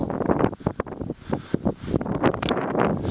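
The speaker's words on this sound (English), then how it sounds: "For whatever reason, right through here is an unbelievable wind tunnel." Strong wind gusting through trees in an unusually windy spot, a steady rushing roar with buffeting microphone wind noise that swells and dips in irregular pulses.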